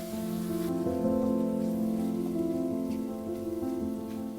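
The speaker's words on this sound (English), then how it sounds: "Saute the mushrooms for another minute." Mushrooms seasoned with salt and cracked pepper sizzle steadily as they sauté in a pan, a soft, even, rain-like hiss running throughout beneath a sustained bed of background music.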